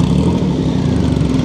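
An original Triumph Rocket 3 motorcycle's engine runs steady and loud close by, a thick low rumble with a slight throttle rise, no talking over it.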